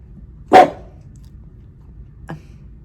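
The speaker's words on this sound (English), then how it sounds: "There's literally nothing out there to bark at, but he's going to bark." Indoors, a dog barks at a window overlooking snow: one sharp, loud bark, then a much fainter, shorter yip a couple of seconds later, with quiet between them.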